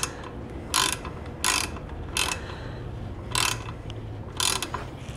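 A ratchet tightens a Lambretta scooter kickstart in five short, evenly spaced bursts of clicking, close and clear over a low background hum.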